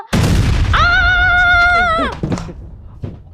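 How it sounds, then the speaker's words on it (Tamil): A bomb explosion sound effect in a comedic scene at a bank manager's cabin: a loud, close boom hits at once, then a sustained harmonic tone like ringing ears fades out, followed by scattered softer sounds. "ஐயோ பாம் வெடிச்சிடுச்சா"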